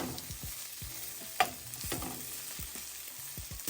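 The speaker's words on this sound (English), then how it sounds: "I just added in some olive oil. Before I add the bulgogi, I'm just going to saute some onions." Onions sautéing in olive oil in a pan, a soft continuous sizzle broken by repeated scraping stir strokes and one sharp clack from a utensil, fairly quiet and close, with no voices.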